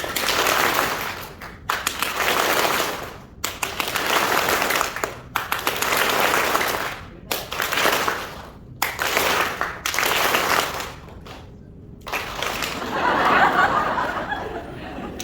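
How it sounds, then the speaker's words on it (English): An audience at an International Yoga Day celebration held by diabetes clubs claps loudly in repeated bursts separated by brief pauses, with a little laughter mixed in. "Your claps are so loud, my ears are bursting."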